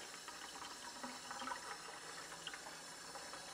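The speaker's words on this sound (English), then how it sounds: "to clean the filter, we simply run it under water from both ends, give it a good shake" A water filter is rinsed under running tap water, giving a faint, steady trickle and splash with small irregular bursts and no talk over it.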